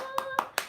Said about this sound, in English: I need to give a special clap for everyone that's joined in